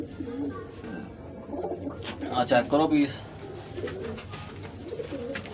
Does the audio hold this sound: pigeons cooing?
yes